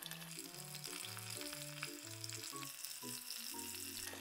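Pieces of karaage chicken, Japanese fried chicken, deep frying in oil in a saucepan, a constant crackling sizzle with soft bubbling, close and steady with no talking.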